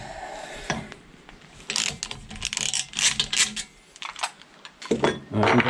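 A nutsert installation tool is loosened and undone on a Toyota Starlet 4E-FE intercooler bracket, giving close metallic clicks, ratcheting and clinking taps. The taps are irregular and moderately loud, with a little background noise between them.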